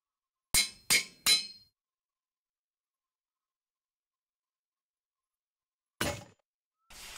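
Tools breaking in the Minecraft video game, with three quick sharp shattering cracks in a row, then silence, then two more similar breaks near the end, close and clear with no talking.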